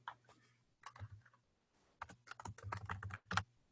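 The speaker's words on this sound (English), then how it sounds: "And so now I can type inside my box." Computer keyboard typing in short bursts of quick, close clicking keystrokes, with brief pauses between the runs.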